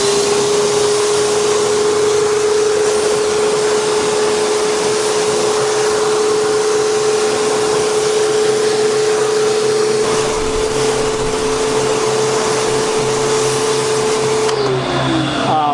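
A pressure washer rinses car wheels after a wheel and tire cleaner is applied, a steady loud whining motor drone with spray hiss, holding for about fifteen seconds before the pitch drops at the end.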